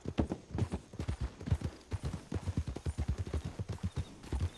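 A horse's hooves trot in a steady, brisk clip-clop rhythm across a video game world, close and continuous, with no voices over them.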